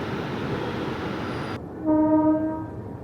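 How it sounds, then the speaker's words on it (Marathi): Pune–Sai Nagar Shirdi Express pulls into platform 2 at Daund Chord Line station with a steady rumble of rolling wagons, then a loud, sustained multi-tone train horn blares close by. "पुणे साईनगर शिर्डी एंटर करत आहे दौंड कॉर्ड लाईन रेल्वे स्टेशनच्या प्लॅटफॉर्म नंबर 2वर"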